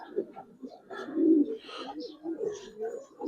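Giribaz pigeons coo in soft, repeated throaty bursts close by, under quiet, intermittent background talking.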